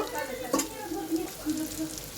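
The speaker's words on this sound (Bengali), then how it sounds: "এর মধ্যে আমি দিয়ে দিচ্ছি টমেটো কুচিগুলো" Chopped tomatoes frying in spices for chicken fry, a soft, steady sizzle with a brief clink of utensil, fairly quiet and close.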